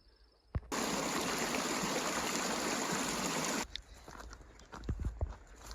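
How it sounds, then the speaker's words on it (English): Snake River flowing in the Yellowstone backcountry, a loud continuous rush of water close by that lasts several seconds, then cuts off, leaving quieter scattered clicks and footstep-like thumps. "here is the Snake River"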